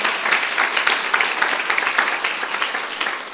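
A church youth-group congregation claps together during a Korean sermon, a loud, close, continuous patter of many hands with a faintly rhythmic pulse, lasting a few seconds without talk.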